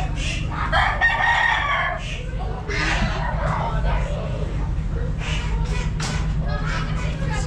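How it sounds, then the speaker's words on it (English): Chickens and roosters at an agricultural show in Bannow and Rathangan, with repeated clucking and crowing from several birds close by against a steady low crowd and machinery hum. "So these are all birds"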